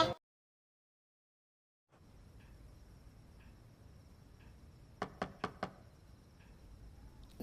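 Four quick knocks on a door, close and sharp, come after a quiet room hum, with a few faint softer taps before them.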